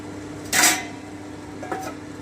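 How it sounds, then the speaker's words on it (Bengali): A pot lid lifted with a sharp metallic clatter, then a softer clink of stirring about a second later, while butter garlic chicken cooks; two brief close kitchen sounds over a quiet background. "আমি আবারও ঢাকাটা উঠিয়ে নিচ্ছি আমি একটু নেড়ে নিচ্ছি"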